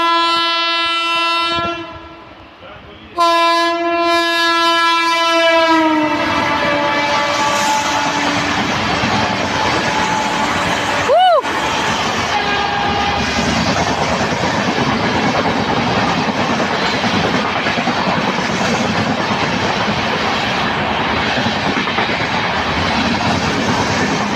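An Amrit Bharat Express train with a WAP-7 locomotive and push-pull system sounds a long, loud horn blast, then thunders past nearby with a steady roar of wheels and wagons that fills the scene.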